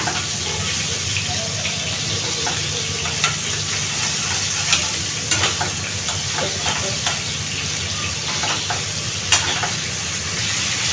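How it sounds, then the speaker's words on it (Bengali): Bata fish fries in oil in a pan on a home stove, giving a loud, continuous sizzle with scattered crackles and pops over about eleven seconds, with no speech. "এখন বাকি সাইডটাও একইভাবে ভেজে নিব"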